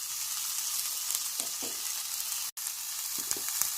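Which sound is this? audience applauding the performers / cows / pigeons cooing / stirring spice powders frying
stirring spice powders frying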